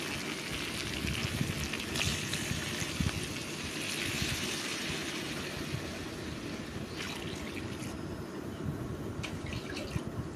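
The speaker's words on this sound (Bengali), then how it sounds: "এখন আমি জল দিয়ে ঝোলটা দিয়ে দিচ্ছি" Water poured into a pot of simmering red chicken curry with potatoes, a steady continuous pouring and sizzling wash that runs unbroken and fairly loud, with no talking.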